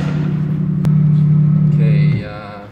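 Car engine idling with a steady low drone that cuts out abruptly near the end as the driver stalls pulling away, followed by brief rattling and settling. Close and loud, with a sharp click partway through.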